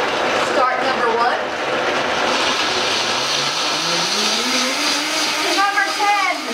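A Vitamix blender grinds almonds for homemade almond milk, a loud, steady roar filling the whole span, with the motor pitch rising and shifting as the nuts break down and speed increases.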